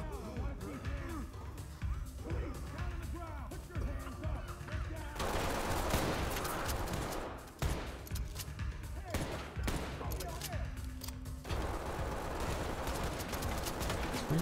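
Gunfire rings out in the tactical shooter Ready or Not, with dense bursts of rapid shots and single cracks echoing through an indoor space across about fifteen seconds. Voices talk over parts of the firing.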